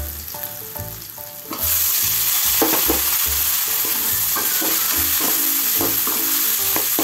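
Onions and tomatoes frying in hot oil in a pan, a steady loud sizzle with stirring scrapes throughout, joined by a few low knocks and a tonal beeping pattern at the start.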